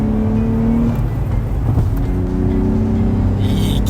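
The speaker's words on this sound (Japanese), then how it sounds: "回したくなるエンジンですね" A Nissan Fairlady Z (RZ34) with a VR30DETT engine revs hard and climbs steadily in pitch, a loud sustained roar heard close from inside the car.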